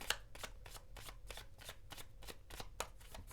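Tarot cards being shuffled by hand, a steady run of quick papery riffles and flicks, close and clear with no talking.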